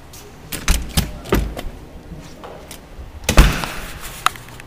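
A door is opened onto the crush pad of a brewery on brew day, with a series of clunks and knocks and a louder bang near the end over a quiet background.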